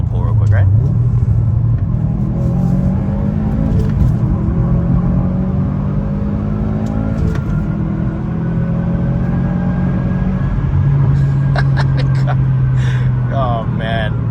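A modified car, the owner's long-wanted childhood dream car with a driver mod, pulls hard under steady, loud engine rumble with rising revs and gear shifts, while someone talks over it.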